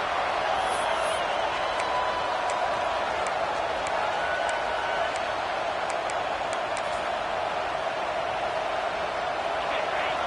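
Stadium crowd at a college football game against ULM, a dense continuous roar of many voices filling the space, with faint whistles and a commentator's voice over it.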